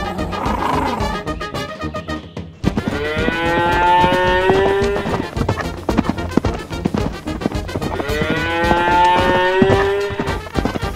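A cartoon mother cow moos loudly in a long drawn-out call over busy music, then moos again a few seconds later, both calls close and clear.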